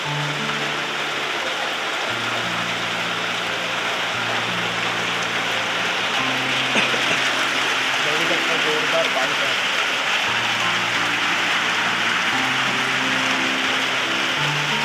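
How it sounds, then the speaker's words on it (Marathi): Steady monsoon rain in the Konkan countryside hisses loudly and evenly throughout, with a simple sustained melody, like humming or a tune, running faintly beneath. "तर समोर पाऊस पडतो"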